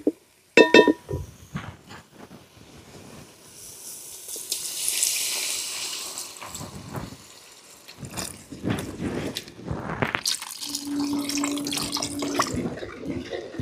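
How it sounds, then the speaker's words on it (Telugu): Water pouring into a cooking pot for basmati rice pulao, a steady close splashing and gurgling stream with a few metallic clinks from the pot, continuing without talk. "2 గ్లాసులకి ఒక 4 గ్లాసులు వాటర్ అయితే వేద్దామండి."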